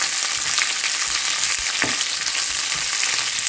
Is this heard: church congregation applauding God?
no